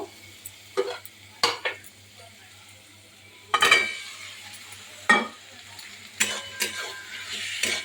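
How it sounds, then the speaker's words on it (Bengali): Potatoes tossed into a pan of fried spices for an egg curry, with several close, sharp bursts of stirring and scraping over a low, steady sizzle. "এবারে এর মধ্যে আলুটা দিয়ে দেব"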